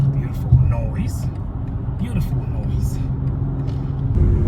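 A 2024 BMW M440i accelerates on a road, its engine rumbling low and rising under the driver's talking, with passing traffic in the background.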